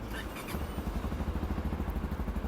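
A cold Tekken 250 enduro motorcycle engine catches and settles into a steady, rapid idle putter, close by and moderately loud.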